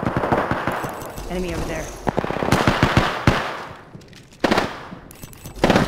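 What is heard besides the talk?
gunfire in a video game (Apex Legends, Devotion)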